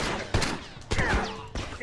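Gunfire in The Last of Us on PS3 crackles in several sharp shots spaced through the moment, with players talking over the game audio.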